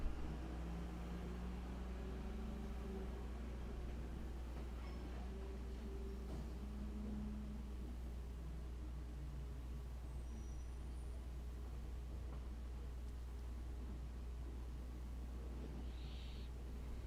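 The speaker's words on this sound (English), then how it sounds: "The truck comes through and picks up the bins." A garbage truck collecting recycling bins outdoors, with a low steady engine rumble, a few brief air-brake hisses and clanks, heard from some distance with no talking.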